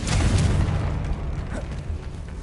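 A Confringo fire spell explodes in the Hogwarts Legacy video game: a loud, dense burst of boom and rumble at the start that tails off into a fading roar, with no talk over it.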